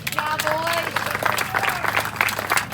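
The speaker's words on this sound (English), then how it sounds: "Give them a round of applause." A crowd applauds and cheers at a high school bass fishing championship weigh-in, loud clapping mixed with voices and talking throughout.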